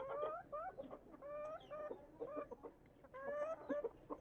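Tethered chickens and a rooster cluck in bursts of rising, squawky calls, several birds close by, broken by brief pauses over a quiet yard background.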